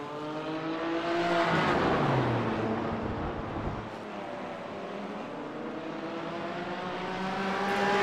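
GT4 race cars lapping a circuit, engine roar building as a car passes close then fading, with another car's note rising again near the end; steady loud motor noise throughout, no talk.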